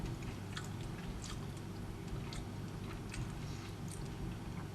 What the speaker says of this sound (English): The salmon with the almond flour on it has a little bit of crunch to it